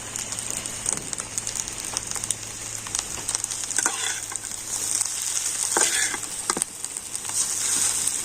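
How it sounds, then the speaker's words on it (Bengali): Roti pieces frying in a pan with egg and vegetables while being stirred, a continuous close sizzle broken by repeated scraping and clinking of the spatula, with no talking. "তো অল্প অল্প করে এভাবে রুটি দেবো আর নাড়তে থাকবো।"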